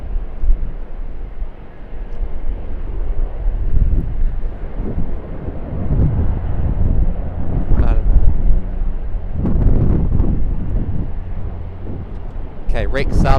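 A Rex Saab 340 turboprop airplane departs runway 25 at Sydney Airport, heard as a steady, broad engine rumble with wind buffeting the microphone and faint murmuring voices in the background.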